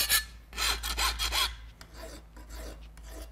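A hand file rasps against the hard tips of a steel saw blade being made into a knife, several loud, scratchy strokes close by early on, then lighter, fainter rubbing strokes.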